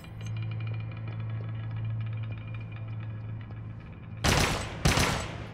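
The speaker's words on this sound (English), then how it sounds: "I shot him in the back" Two sharp, loud gunshots from the video game Unit 13 ring out near the end, breaking over a steady low engine-like hum that fills the rest of the clip.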